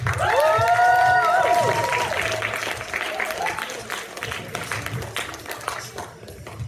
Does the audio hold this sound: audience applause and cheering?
yes